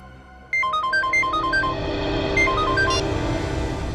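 A telephone dialing and ringing sounds as a quick run of bright electronic tone beeps, a pause, then a shorter second run, loud and near over a low background rumble.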